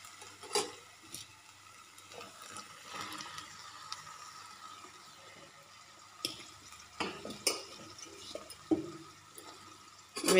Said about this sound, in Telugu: ఇప్పుడు కట్ చేసి పెట్టుకున్న బీరకాయ ముక్కలు కూడా ఇందులో వేసుకుందాం.